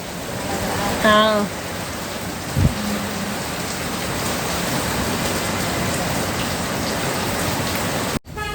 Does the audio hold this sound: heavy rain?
yes